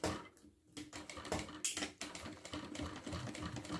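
A sewing machine stitches the lining of a bag at a small stitch length, running in close, rapid mechanical bursts with a brief pause, no voices present.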